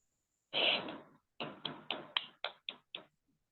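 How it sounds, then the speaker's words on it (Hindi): A short burst of noise, then about seven sharp, separate claps in an uneven rhythm, welcoming a speaker in an online Hindi-language networking meeting; close and fairly clear, with no talk. "हम सबों को जोरदार ताली के साथ, क्लैपिंग के साथ आए सर आप"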